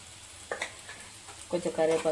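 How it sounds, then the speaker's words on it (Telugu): Onion, turmeric and curry leaves hit a hot pan for a tomato and raw mango chutney, giving a faint sizzle with a couple of stirring scrapes that swell into a louder crackling sizzle near the end. "ఉల్లిగడ్డ వేసుకొని కొంచెం పసుపు వేసుకుందాం"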